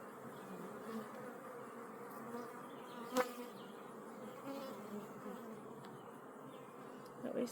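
Honeybees buzz in a continuous, soft drone during an inspection of a hive holding worker and drone brood, with one sharp click partway through and a few louder passes near the end, no talk.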